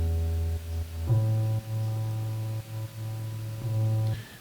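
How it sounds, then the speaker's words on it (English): A car alarm sample, the chirp of a car being unlocked, repitched to carry bass notes without deep low end; steady tonal notes shifting pitch in a slow sequence, moderately quiet and alone. "a car, like a alarm from a car when you open it."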